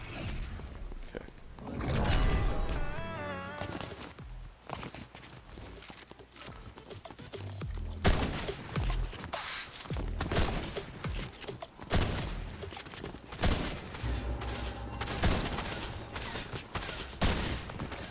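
Fortnite gameplay on a Christmas-themed island, with dense bursts of rapid gunfire, whooshes and crashes mixed with game sounds and a voice talking at times.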